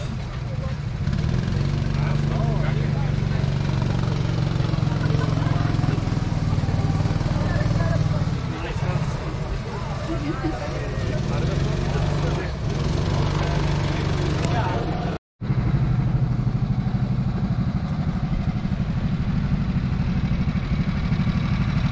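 Go-kart engines run steadily at an outdoor karting track in Sofia as a race starts, a loud continuous droning buzz with a brief cut near the end, voices faintly mixed in.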